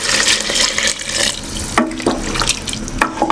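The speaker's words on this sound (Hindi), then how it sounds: "अब मैं इसमें 2 गिलास पानी ऐड करूँगी।" Water poured from a glass into a frying pan of lauki chana dal, bottle gourd and split chickpeas, a steady close splashing pour that breaks into a few sharper splashes and trickles near the end.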